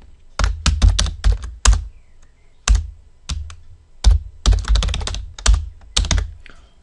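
Rapid bursts of typing on a computer keyboard while writing CMS module code, with clustered keystroke runs separated by short pauses, close and clear, no talking.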